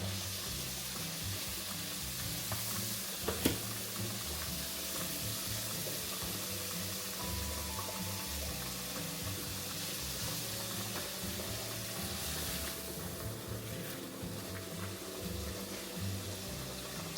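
Shrimp frying in a pan give off a steady, dense sizzle and crackle that runs unbroken for the whole stretch, with one brief sharper tick near the start and no voices.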